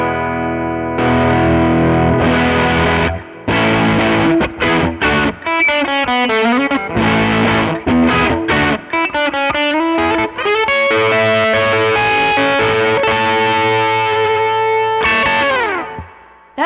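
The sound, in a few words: electric guitar through overdrive pedal's extra drive voice, gain down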